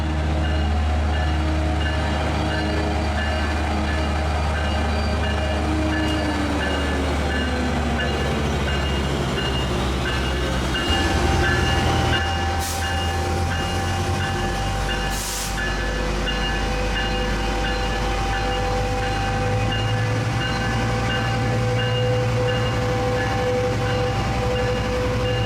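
A Metrolink commuter train passes through Fullerton station with a loud, sustained rumble and a deep engine drone. The pitch shifts as it goes by, and brief squeals and clanks rise midway.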